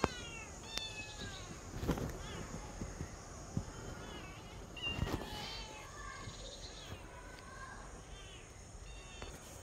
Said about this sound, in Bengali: এই যে আমাদের উপরে দুটো বিড়াল আছে।